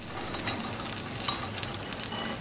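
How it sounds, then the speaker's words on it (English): Cheese going into a Swiss fondue pot of gently heated liquid on a stove element gives a steady, close, soft sizzling and stirring texture with small scraping clicks, with no talking. "And now I'm going to add the entire cheese."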